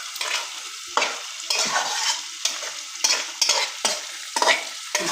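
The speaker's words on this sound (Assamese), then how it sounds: "এনেকৈ মাজে মাজে অলপ লৰাই থাকিব লাগিব। অলপ লৰাই দিছোঁ।" Goat meat curry being stirred in a pot, a spoon scraping through the thick simmering mixture in a series of about eight short, regular strokes, each with a soft sizzle, close and moderately loud with no talking.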